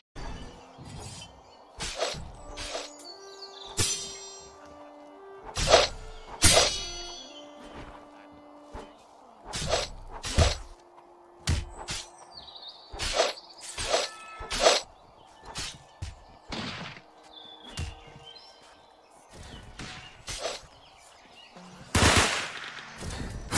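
Sound blast attack in the video game Deepwoken: repeated sharp, loud bursts and crackling impacts in rapid succession, broken and shattering in character, with no talk over them.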